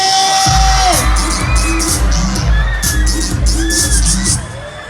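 A festive night crowd at a local people's night event claps and cheers, with loud rhythmic booming music underneath, scattered whoops and shouts, and a dense babble of voices throughout.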